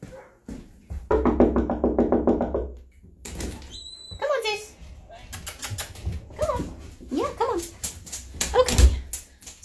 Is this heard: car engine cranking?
no